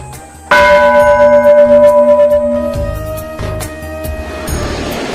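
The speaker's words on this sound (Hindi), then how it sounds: "एक बार और घंटा बजा लूं क्या" A large temple bell at the Anjan Dham cave shrine in Jharkhand is struck once, loud and close, ringing with a long shimmering decay and pulsing swells, followed by fainter clangs and rustling.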